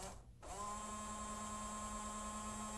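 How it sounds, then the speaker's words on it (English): A 1991 Buick windshield washer pump running on jumper wires, a steady faint electric whine and hum that starts abruptly after a short pause and continues evenly without any talk. "If the washer motor runs with the jumpers connected, the wiring and the washer pump are okay."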